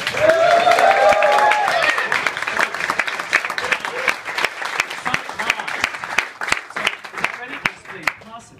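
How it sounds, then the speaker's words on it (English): An audience applauds Danielle during a comedy bartender training show, a dense, loud wash of clapping that fades gradually with a few individual claps lingering, while a host's voice talks over it at the start. "A big round of applause, people, for Danielle, please"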